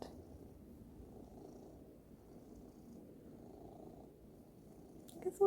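A cat purrs steadily up close, a soft, low, continuous rumble that runs unbroken until a brief louder noise at the very end.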